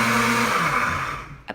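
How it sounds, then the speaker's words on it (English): Pampered Chef Deluxe Cooking Blender running while boiling pureed carrots, a loud close motor whir that steadies, then winds down at the end. "want to see a blender that boils"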